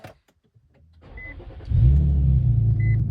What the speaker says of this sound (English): First thing we need to do is start our vehicle.